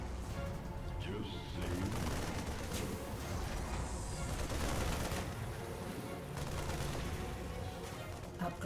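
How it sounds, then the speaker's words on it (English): Missile attacks in the StarCraft 2 campaign make a dense, steady barrage of rapid blasts and explosive bursts, with someone talking over the continuous battle noise. "Look at those missiles, man"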